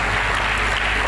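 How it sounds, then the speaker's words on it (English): Brief, steady wash of audience applause at a tech conference, dense clapping with no break. "Please, can we put our hands together for them?"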